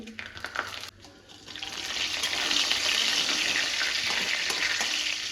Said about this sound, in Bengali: ফোড়নে দিচ্ছি তেজপাতা, শুকনো লঙ্কা, জিরে